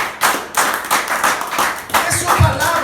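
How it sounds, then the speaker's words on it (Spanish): A church congregation claps together in a loud, dense burst that runs the whole stretch, with uneven slaps and a few low thumps, and some voices mixed in. "Y si lo van a aplaudir, aplaudan."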